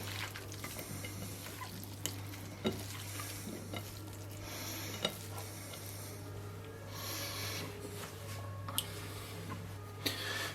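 Tuscan panzanella bread salad dressed with olive oil and vinegar, tossed in a bowl, giving soft, continuous stirring and rustling sounds, quiet and close over a low steady hum, with occasional light taps.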